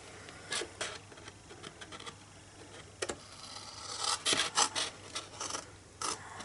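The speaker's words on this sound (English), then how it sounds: "So you're going to just cut up to the score lines like this." Scissors or a craft knife cutting up to the score lines of a large 6-inch square paper gift box, a series of short, crisp rasping snips at an irregular pace, close and fairly quiet.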